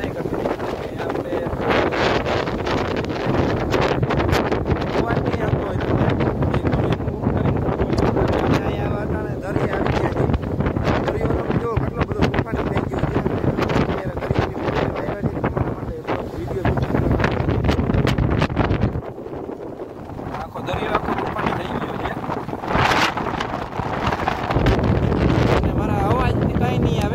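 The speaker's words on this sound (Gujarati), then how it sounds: "પવન બધો અવડો છે" Strong wind roars and buffets the microphone almost continuously during heavy rain in Dwarka, dipping briefly near the end, with voices talking underneath.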